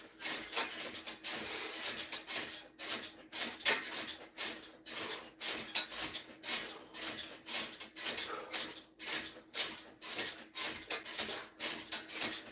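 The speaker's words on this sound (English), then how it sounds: "excuse the noise of the squeaking from this trampoline" A trampoline squeaks rhythmically during exercise, sharp high squeals repeating about twice a second with steady bouncing, fairly faint and without anyone speaking.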